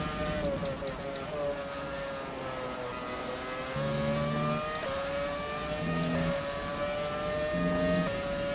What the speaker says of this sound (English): Can hear his engine. Very nice sound there.